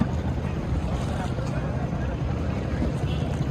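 A fast motorized trawler passing on a river at night, a continuous low engine drone and rumble of water, moderately loud and steady, with someone talking over it.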